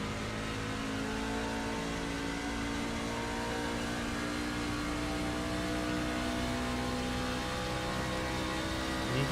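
A Truck Series racing truck at Watkins Glen heard on board, its engine droning loud and steady at high revs with slight pitch shifts through the whole stretch, with no voices.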